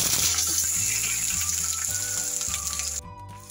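Onions are dropped into a hot pan where mutton liver is frying with whole spices. A loud, dense sizzle rises and holds steady up close, then eases slightly toward the end, with a low hum underneath and no talking.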